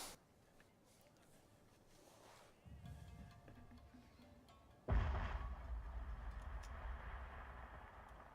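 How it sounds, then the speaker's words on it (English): Artillery shrapnel fire in the video game Fall of Samurai: a muffled thump early on, then a loud, sharp blast that rolls into a sustained rumbling of battle noise. "Come on, shrapnel fire, don't let me down."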